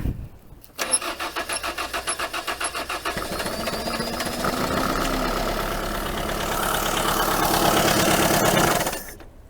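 A 1980 Dodge Colt Challenger engine with a newly installed carburetor cranks with rhythmic pulses, catches, then idles steadily and loudly before cutting out abruptly when the idle solenoid is killed.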